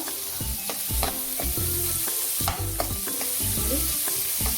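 Onions frying in a pan for a squid sukka, a steady loud sizzle broken by repeated scraping stirs of a spatula, close and without any voice.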